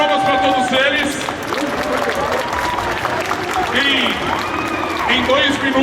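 Audience applause and cheering at an anime convention stage event, a crowd clapping steadily while whoops and a presenter's voice carry over the top.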